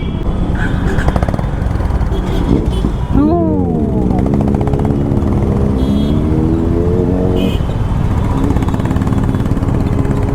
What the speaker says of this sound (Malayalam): ഈ ഫ്രണ്ടിൽ കാണുന്നത് ഒരു Z900 ആണ്. ഒരു ആഫ്റ്റർ മാർക്കറ്റ് എക്സോസ്റ്റ് ഒക്കെ ഉണ്ട്.